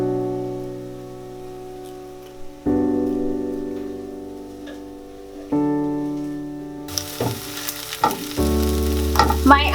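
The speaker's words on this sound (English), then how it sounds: "While my onions are cooking" Onions frying in a pan, a steady sizzle sitting under continuous background music with no talking.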